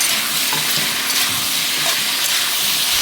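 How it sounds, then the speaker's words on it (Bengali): Fish head and Malabar spinach cooking in a pot, giving a steady, loud sizzle and bubbling hiss throughout, with faint stirring clinks and no talk. "সেদ্ধ হয়ে গেছে, মাছের মাথাটা দিয়ে দিলাম।"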